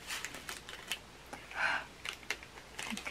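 Diamond painting beads are poured onto a tray, giving scattered light clicks and ticks in quick irregular bursts with a short rattling rush in the middle, close and fairly quiet.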